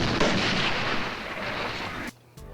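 A close, loud blast as foam-stuffed pants are blown up, a dense roaring burst filling the first two seconds before cutting off abruptly, followed by a brief quiet gap and a short second burst.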